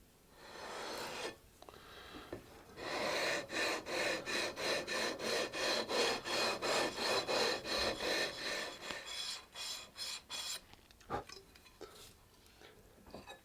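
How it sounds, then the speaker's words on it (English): Rhythmic rasping strokes of a sanding beam rubbing across guitar frets, a rapid back-and-forth series of about twenty passes, close and loud, then a few slower scrapes. "before I'm going to take out my sanding beam and do a final leveling of all the frets"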